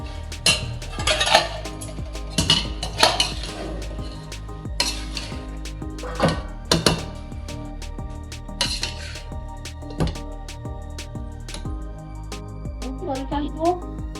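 Vegetable biryani ingredients with onion, cashews and raisins being stirred in a pot, with repeated metallic clinks and scrapes of a spoon against the vessel, close and fairly loud, under background music and talk.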